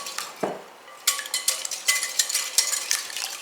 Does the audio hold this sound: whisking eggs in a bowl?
yes